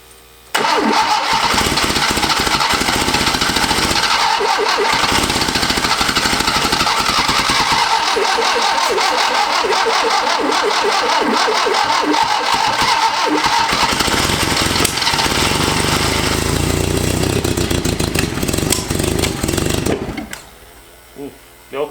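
An abandoned Fiat engine, unstarted for 30 years, cranks and catches, then runs loud and rough for about twenty seconds before cutting out abruptly.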